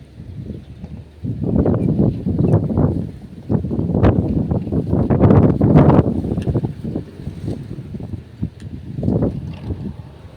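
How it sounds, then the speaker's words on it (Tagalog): Strong typhoon wind buffets the microphone in loud, low rumbling gusts that surge and fade, with quieter gaps between blasts. "Medyo malakas na nga po pala yung hangin."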